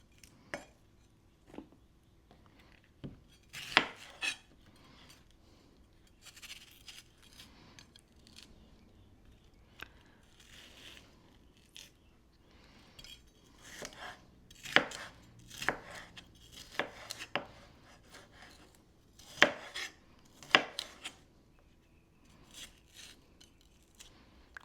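A knife chopping sweet pepper on a cutting board, irregular sharp taps in scattered bursts, some quick runs of several cuts, fairly close and otherwise quiet.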